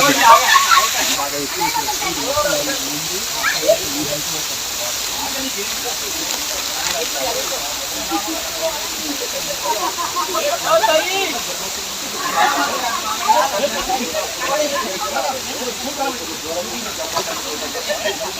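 Steady rushing water roars at Vennela waterfall, a broad continuous hiss, with a person talking over it now and then.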